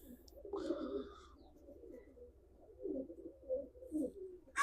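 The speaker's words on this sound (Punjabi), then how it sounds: "ਆ ਕਬੂਤਰੀ ਹੈ ਇਹਦੇ ਨਾਲ" Pigeons coo in low, soft, rounded calls, repeated several times at close range in an otherwise quiet setting.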